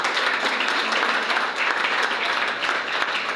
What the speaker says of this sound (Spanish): Denle un aplauso a su abogado.